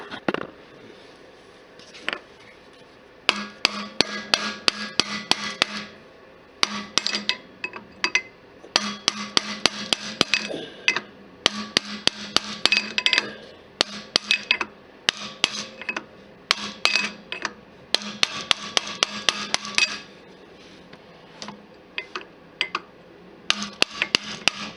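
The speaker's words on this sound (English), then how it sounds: "Take a punch and hit on, hit it counterclockwise." Metal punch struck repeatedly with a hammer against the flywheel of a small Briggs & Stratton 2-8 HP engine, turning it counterclockwise; sharp, close metallic clanks arrive in rapid irregular bursts separated by short pauses.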